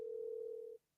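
Telephone dial tone heard over a speakerphone, a single steady pure tone held loudly for most of a second before cutting off abruptly into near silence.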